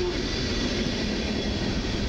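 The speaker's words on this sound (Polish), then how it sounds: "jedzie pociąg piętrowy ze Skierniewic Kolei Mazowieckich" A Koleje Mazowieckie double-deck push-pull commuter train from Skierniewici, bound for Warszawa Główna and pushed by a Pesa Gama locomotive, rolls past with a steady, loud, continuous broadband rumble and faint tonal hum throughout, no voices.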